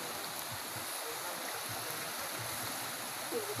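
Strong rushing water roars steadily in a broad, unbroken wash of noise, a powerful current heard from nearby without letup.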